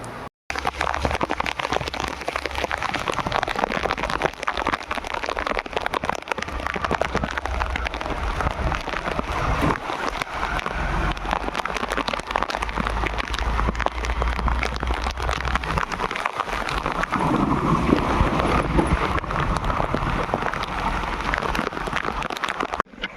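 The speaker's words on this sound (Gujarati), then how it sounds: "વરસાદ રહેતો નથી એના કારણે" Heavy rain pours steadily and loudly for the whole stretch, a dense, unbroken hiss of water hitting surfaces with no voices.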